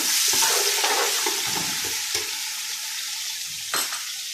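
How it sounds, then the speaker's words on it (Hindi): Garlic fries loudly in a pan as a spoon stirs and scrapes through it, with bursts of sizzling that ease to a softer crackle and a sharp scrape near the end. "अब हम अपना लहसुन शामिल करने लगे, और अब इसको हल्का सा जो है वो हम फेरेंगे"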